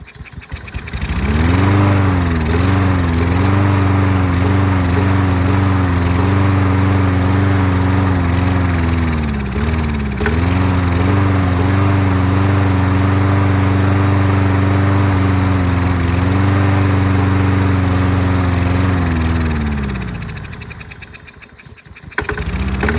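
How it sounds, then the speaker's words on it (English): A small gasoline engine with a carburetor problem runs loud and steady for about twenty seconds, holding a constant buzzing drone before it sputters and cuts out near the end. "So more or less that tells you that the engine is running"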